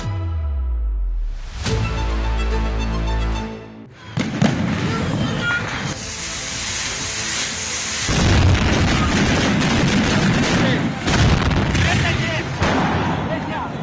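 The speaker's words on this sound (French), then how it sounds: "tout l'entrepôt de feux d'artifice prend la parole en même temps" A fireworks warehouse goes up all at once, unleashing a loud, dense barrage of booms, crackles and rapid bangs that build after a deep rumble, with a voice narrating over the chaos.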